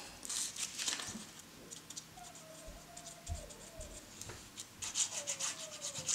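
An eraser rubs out a mistake on paper. It makes soft, repeated scratchy strokes that run steadily for several seconds at close range, faint under a light background noise.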